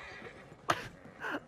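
Horses neigh and whinny in two short bursts, one sharp and loud, the other a quavering whinny a moment later, with faint hoof sounds and noise in between.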